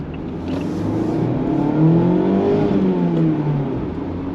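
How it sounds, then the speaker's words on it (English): Mazda MX-5 ND2 with the roof down revs its engine, a steady close drone whose pitch climbs, peaks and falls back as the revs rise and settle, with wind rushing throughout. "once you rev the thing, it does make a nice noise, especially with the roof down"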